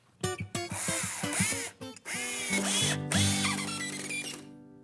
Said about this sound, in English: Why don't you go ahead and put a couple screws in.